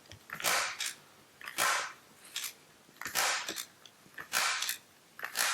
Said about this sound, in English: Take your handy staple gun. Staple approximately every 3 to 4 inches.